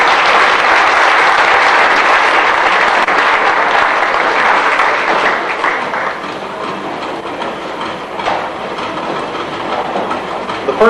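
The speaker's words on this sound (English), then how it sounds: "let's give another round of applause to the Horse and Pony Club." A crowd at a county fair applauds loudly and continuously, a dense wash of clapping that slowly thins toward the end.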